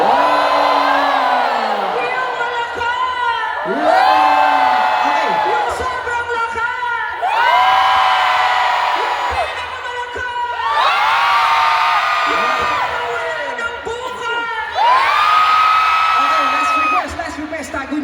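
A large concert crowd at a show in Dubai shouts and cheers in repeated rising waves, four or five loud surges of whooping voices, with a performer's voice briefly heard.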